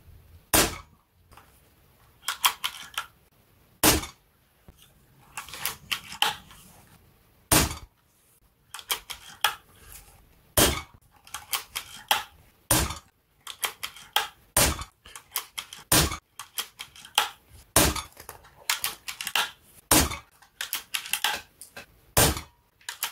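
A Zbroia Kozak bullpup air rifle firing 8.44-grain JSB Exact 4.52 pellets in a warm loft: a dozen or so sharp, loud, close shots at irregular intervals, with softer mechanical clicks and clatter between them.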